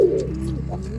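A homing pigeon inside a loft cage gives a low, close coo that rises and falls over about a second, clear against quiet surroundings.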